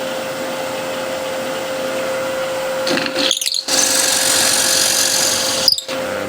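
A drill bores a depth hole into a wooden bowl blank with a steady, close whine and a sustained hum. The tone breaks off briefly twice as the bit is pulled back.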